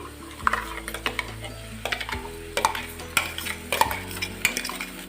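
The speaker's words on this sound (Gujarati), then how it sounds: "હલાવી લઈએ અને ડુંગળીને આપણે થોડી બ્રાઉન કલરની કરી લેવાની છે" Onions being stirred in a frying pan for a green banana sabji, with repeated scraping and clinking strokes of a spoon over a steady, close sizzle.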